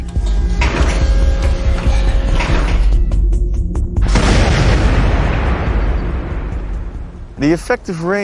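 Deep booming blasts from a coastal artillery cannon of the Atlantic Wall, a loud heavy report followed by a long rumbling decay, with a narrator's voice talking over it.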